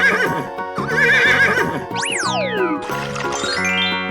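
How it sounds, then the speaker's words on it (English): A horse neighs in a 3D animal slide video game, a loud whinny with rising and falling pitch plus springy boing effects, mixed with bright game music and little talk. "Horse."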